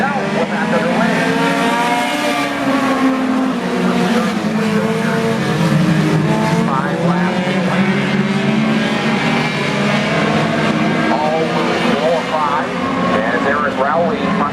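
Race cars roar around Brewerton Speedway during a heat race, a loud continuous engine drone with rising and falling revs as the field passes, steady throughout with a track announcer talking over it.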